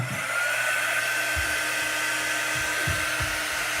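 A hair dryer drying a chalk stencil, blowing as a steady close whine and rush throughout, with a few low bumps beneath it.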